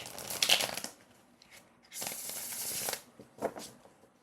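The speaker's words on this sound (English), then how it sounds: "I will start by shuffling your tarot cards to get a read for your" Tarot cards being shuffled in crisp, close bursts, a riffle near the start and a longer stretch of sliding and flicking card sounds in the middle, with quiet pauses between.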